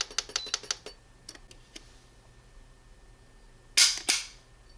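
A Beretta 92G pistol's single-action trigger is pulled, with a few light mechanical clicks before one loud, sharp snap of the hammer falling nearby, then a second crisp click.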